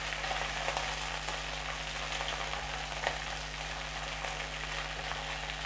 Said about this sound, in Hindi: इनको फ्राई कर देते हैं